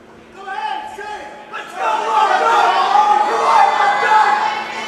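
Wrestling crowd at a Wrestling Open show rising in cheers for Love Doug during his match with Brad Hollister, a steady roar of voices swelling and holding loud, with a commentator talking over it.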